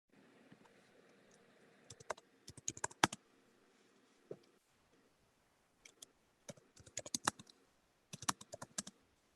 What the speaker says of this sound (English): Somebody typing away.